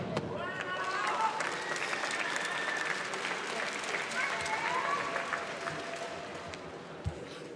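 An arena crowd at a Karate1 Premier League bronze-medal bout in Moscow answers a scorpion kick with a soft murmur and scattered applause, heard faintly under a commentator's talk.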